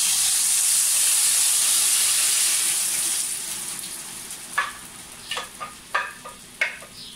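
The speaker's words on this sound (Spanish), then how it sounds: "Puse en esta olla un poquito de aceite y vamos a freírlo." Ground chile sauce hits hot oil in a pot with a loud hissing sizzle that gradually settles, followed by several short bubbling spits and pops as it fries, with no voices.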